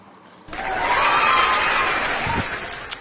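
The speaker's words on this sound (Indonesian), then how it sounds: "Kasih tepuk tangan dulu Yonatan Andar." An audience suddenly breaks into loud, dense applause with some cheering and laughter, sustained for a few seconds after a quiet start.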